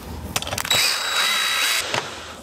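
A power driver whirs steadily for about a second as long screws are run into a Webasto-style S2D2L diesel heater, with short clicks of handling before and after, close and alone.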